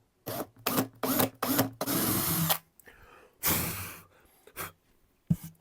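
A power drill bores a small hole into the bridge of an acoustic guitar: several short, loud whirring bursts, then two longer grinding runs and a final quick burst, close by with quiet gaps between.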